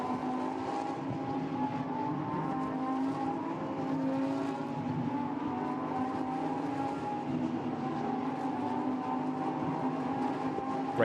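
Lamborghini Huracan Evo race cars of the Super Trofeo series circling Paul Ricard, a steady loud drone of engines blending into one continuous roar as the pack passes, with no talk.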